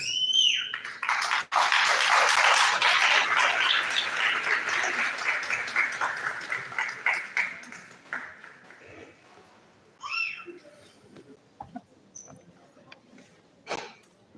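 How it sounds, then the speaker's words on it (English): Audience applause for the speakers at a youth development symposium, loud and sustained at first, then gradually thinning and fading out over about eight seconds, followed by a few scattered claps and faint room noise. "give our speakers another round of applause."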